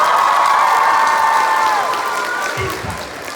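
Crowd at a Dream SMP panel at TwitchCon claps and cheers, a loud dense wash of applause with voices mixed in that fades slightly toward the end.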